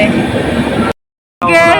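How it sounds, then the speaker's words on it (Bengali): A train runs along a hillside in Andhra Pradesh with a loud, steady rolling rumble that cuts out briefly, then returns with a voice audible over it. "পাহাড়ের গা দিয়ে একদম ট্রেনটা যাচ্ছে"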